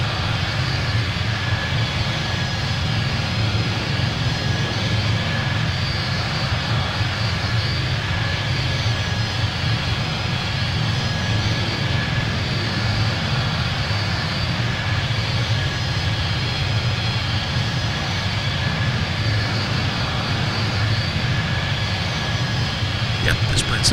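Steady, loud airliner engine drone from a flight simulator game, a continuous broadband roar with a faint high whine that holds unchanged throughout, with no talk over it.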